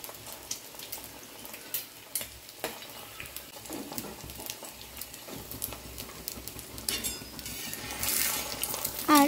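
Maggi noodles being stirred and mixed with masala in a pan, giving a steady soft sizzle with scattered scraping clinks of a utensil against the metal, close and continuous.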